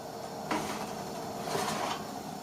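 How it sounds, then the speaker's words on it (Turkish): Metal clatter of an oven door swinging open and a pan of revani semolina cake sliding out, two clanking bursts over a steady kitchen hum. "Arkadaşlar revanımızı fırından çıkartıyoruz."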